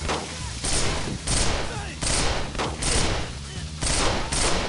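Gunfire in SWAT 4: dense, loud bursts of shooting recurring in quick clusters through the whole stretch, close and harsh with no clear gaps.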